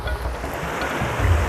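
Clear Creek runs in winter with a steady broadband rush of water, close and unbroken, with some wind noise and no voices.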